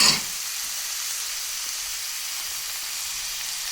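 Chicken, mushrooms and tofu frying in a pan, a burst of loud sizzling as food drops in, settling into a steady, even hiss.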